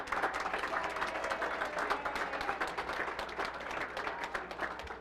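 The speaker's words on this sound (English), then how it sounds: "let's have one last round of applause for the next generation of Washburn Tech" An audience at a Washburn Tech letter of intent signing day event claps together in a steady, moderately distant round of applause lasting several seconds without letting up.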